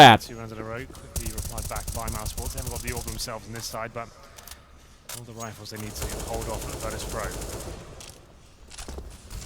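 AK rifle spray fire in CS:GO at a DreamHack Masters Las Vegas 2017 pro match, rapid automatic bursts that start and stop repeatedly under a commentator talking.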